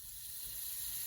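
Butter melts in a saucepan over medium-high heat, giving a steady, faint sizzling hiss that holds without break.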